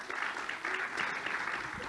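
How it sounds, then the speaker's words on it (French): An audience claps for a guest, an Estonian government envoy for African affairs, at the opening plenary of a Europe–Africa co-innovation conference, the steady applause faint and distant in the hall. "Je vous demande de l'applaudir."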